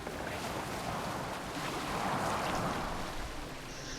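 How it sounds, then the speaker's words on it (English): Boat gliding across open water in the video game Assassin's Creed Valhalla, a steady wash of waves and wind, fairly quiet and continuous, with no talking. "I'm going on a nice romantic boat ride."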